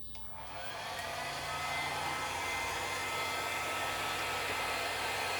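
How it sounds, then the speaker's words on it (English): A travel hair dryer blows on liquid art paint, starting up and settling into a loud, steady rushing whir that holds unbroken at close range, with no talking. "My blow dryers are travel dryers"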